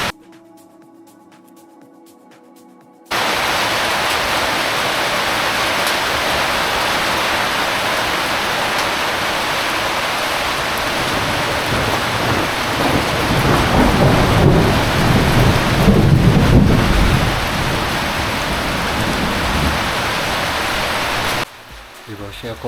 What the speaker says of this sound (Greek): Η βροχή ακόμα τίποτα, δεν σταματάει για κανένα λόγο.